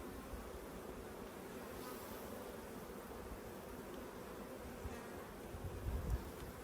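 Honey bees buzzing around an open hive during a summer inspection, a soft continuous drone of many wings, fairly faint and steady, with a few louder close passes near the end.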